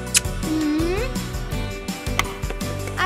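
A cat gives a single rising meow early on, set against a dense, rhythmic musical background with sharp clicks.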